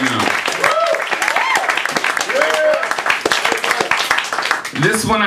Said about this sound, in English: It means a lot that you're clapping for me right now.